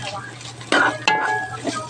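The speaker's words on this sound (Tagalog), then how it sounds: "Dagdag po natin yung bagoong alamang." Fermented shrimp paste going into tomatoes sautéing in a pan, a steady sizzle with a couple of sharp utensil scrapes and clinks against the pan.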